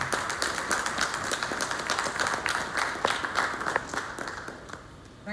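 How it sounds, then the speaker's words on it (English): An audience breaks into a round of applause, dense steady clapping from many hands at moderate distance, tapering slightly toward the end. "Can we have a round of applause?"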